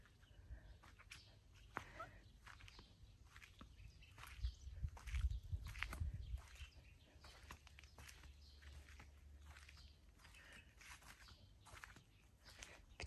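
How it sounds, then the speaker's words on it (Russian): Birds chirp and sing in a summer dacha garden among willows and conifers, small scattered calls over a faint outdoor background, with a few soft footsteps and rustles and no talking. "Птички поют, я поэтому молчу."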